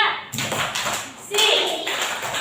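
Group of participants does a short rhythmic 'tepuk siap' clapping chant at a teacher coaching session, sharp claps in bursts mixed with voices calling out together.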